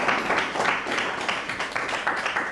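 A church congregation clapping together during a service, a dense, steady patter of many hands with a loose rhythmic pulse and no talking.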